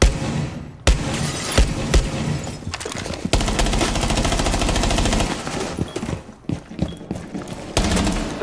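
Gunfire in Rainbow Six Siege, a dense automatic burst lasting a few seconds amid scattered single shots and sharp impacts, loud and close, with no talking.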